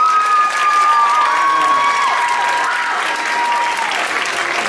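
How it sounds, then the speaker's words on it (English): Audience applause at a womanless beauty pageant, a sustained wash of clapping and some cheering from the crowd, steady and fairly loud throughout, with a voice briefly audible over it. "let's give these ladies a round of applause"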